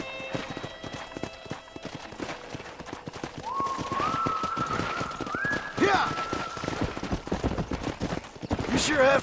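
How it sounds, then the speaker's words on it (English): Horses in the Red Dead Redemption video game, with steady hoof clip-clop through most of the stretch, a rising tonal call midway and a sharp burst near the end, under a busy game soundscape. "Let's see if we can't wrangle some horses."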